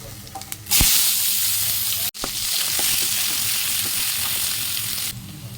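Onion and panch phoron spices hit hot oil left from frying fish for a fish curry, a loud, steady sizzle that starts abruptly, holds for several seconds with a brief dropout and stir clicks, then cuts off.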